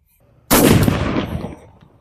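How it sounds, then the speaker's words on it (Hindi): A Star Deluxe Diwali firecracker goes off outdoors at night with one sudden, loud, close blast that trails off in a long crackling, rumbling decay. "चलिए स्टार डिलक्स में फटाफट से आग लगाते हैं।"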